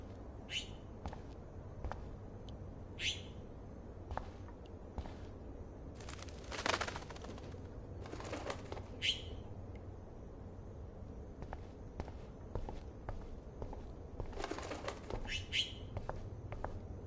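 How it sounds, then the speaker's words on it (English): A trapped bird in the video game Life Is Strange flaps its wings in repeated short bursts over a quiet room tone, with a few chirps between the flurries. "Oh no, that poor little bird has been trapped in here."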